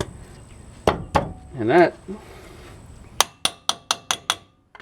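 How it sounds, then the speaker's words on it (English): A metal dust cap is tapped into place on the rotor hub of a Dodge Ram during a brake rotor and pad job, with two sharp knocks, then a quick run of six clinking taps close by after a brief spoken phrase. "we'll be putting the dust cap on"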